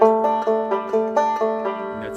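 A single G2 guitar chord, with no third, strummed repeatedly in a steady rhythm, bright and ringing, close and clear with no talking.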